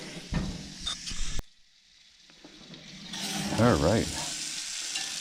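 A steak sizzles on an outdoor grill, its bright frying hiss coming and going around a brief gap, with someone speaking briefly over it.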